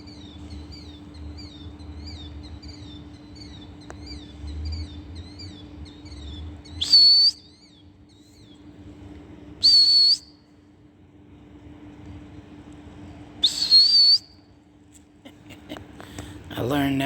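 A person imitates a bird squawk with three short, sharp, high whistled calls spaced several seconds apart, loud and close, following a run of faint repeated chirps from real birds.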